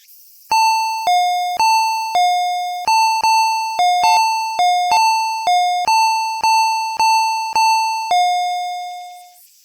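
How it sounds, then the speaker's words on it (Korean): A home doorbell rings over and over, about eight two-tone ding-dong chimes in quick, fairly even succession, loud and close, the final lower tone decaying slowly into silence. "그 뒤로도 한동안 초인종은 계속 울려댔다."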